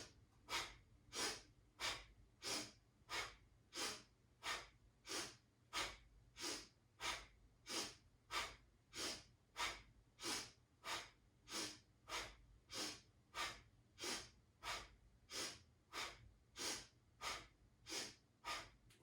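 Forceful belly-pumped breaths during an alternate-nostril breathing exercise, each inhale through one side and exhale through the other, repeat in a quick, even rhythm about every half second, close and clear with no talking.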